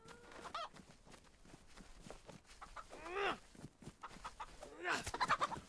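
Chicken clucking in the survival video game DayZ, a series of short clucks and squawks scattered through the passage, fairly faint, with quiet speech mixed in.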